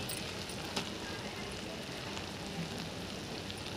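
Onions sautéing without oil in a pan for a Punjabi-style makhani gravy, a steady soft sizzle and crackle with occasional faint pops, continuous and fairly quiet.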